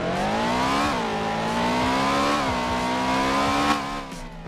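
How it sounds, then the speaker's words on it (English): Synthetic Ford GT500 engine in a Roblox game pulling away from a dead stop: a smooth, slightly electronic whine rising in pitch through a couple of shifts, steady and fairly loud with no talk. "it still kind of sounds like every other car, little bit electronic and has that kind of weird techno noise to it"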